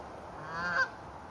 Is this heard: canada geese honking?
yes